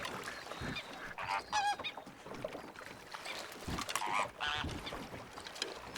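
Honking goose-like bird calls in Red Dead Redemption 2, several harsh nasal honks in short bursts over a steady wash of water and outdoor ambience, fairly close and loud.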